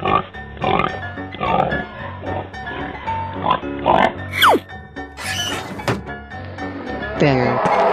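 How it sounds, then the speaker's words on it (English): A pig grunts and oinks several times in a short run of animal calls that cut in one after another among other creature sounds, loud and close. "Pig."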